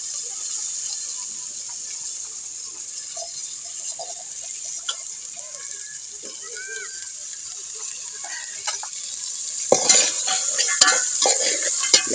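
Vegetables coated in masala being stirred and fried in a hot oiled pan for a village-style Bhogi bhaji, with steady sizzling under scraping spoon strokes and utensil clatter that grows busier and louder near the end.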